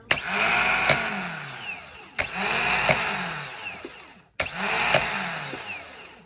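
A rebuilt starter motor from a BMW E34 525i with a new solenoid whirs up on a bench test three times, each run starting with a sharp engagement clack and spinning down after about two seconds; no talking.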